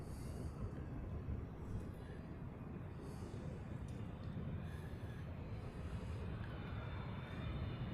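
A China Eastern Airlines airliner at LAX makes a faint, steady, distant jet rumble with broad low-frequency roar and no voices over it.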